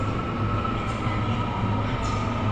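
Steady low rumble and whir of a Seoul subway train in motion, a constant droning roar with faint rattles throughout.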